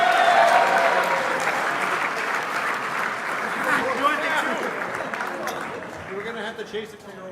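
Crowd at an IFMAR racing awards ceremony claps steadily for the top finishers, a dense, fairly loud wash of applause that tapers toward the end while an announcer speaks over it.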